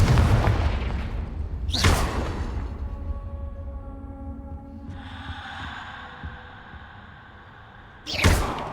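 A Confringo explosive spell blast goes off in Hogwarts Legacy, with a sharp burst near the start, a low rumbling hum after it and another burst at the end, with no talk over it.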